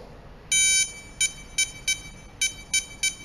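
An RFID password locker lock's keypad gives one longer high electronic beep, then a run of short sharp beeps at uneven spacing, close and clear over a faint hiss.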